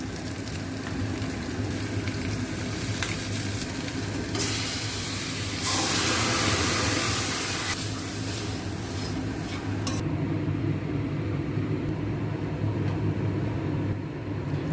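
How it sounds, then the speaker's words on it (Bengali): Tadka spices dropped into hot mustard oil in a small separate pan, with curry leaves, for tadka dal: a steady broadband sizzle and hiss that swells loudly mid-clip, then settles, with faint utensil clinks, no talking. "তড়কার মশলাটা পুরো দিয়ে দিচ্ছি।"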